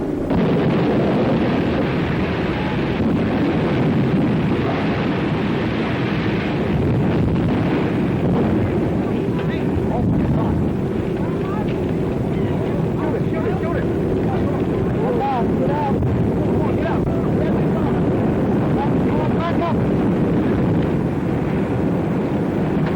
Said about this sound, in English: the scene is one of horror as the ship has slowly sagged to earth and the flames have enveloped the entire structure